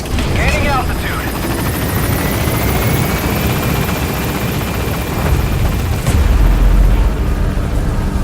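A B-Quad helicopter lifting off in the video game Metal Gear Solid 5, its loud, continuous rotor roar filling the scene with a whine above, swelling slightly toward the end.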